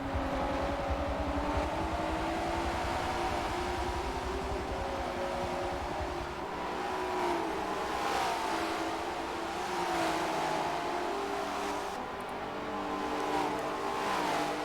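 Racing cars in the Forza Spec Racing Series video game run in a line down the front straight, with a steady, loud engine drone and overlapping revving for the whole stretch.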